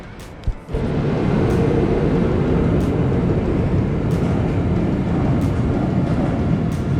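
The Gotthard Panorama Express train idles loudly and steadily at close range in Arth-Goldau station, a continuous low rumble with a brief thump at the start.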